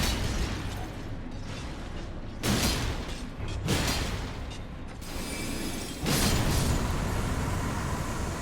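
Crystal Barrage spell in the Elden Ring video game: a rapid series of sharp crystalline bursts and clattering impacts in several dense waves, fairly loud and without speech.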